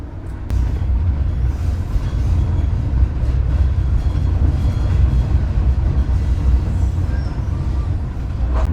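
A train rumbling along the rails between Blitar and Malang, a loud, steady low roar with rattling and clatter from the carriages, no talking.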